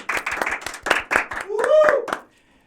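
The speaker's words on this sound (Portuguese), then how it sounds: "Palmas para a Luciana, Matheus." Several distinct hand claps for a guest in a podcast studio, eight or so sharp claps in a quick run, close and loud, with talking layered over the last ones before the sound cuts off.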